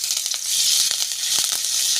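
Garlic, green chili and curry leaves sizzle loudly in hot oil in a pan, a dense, close hiss broken by small crackles and pops, with no talking.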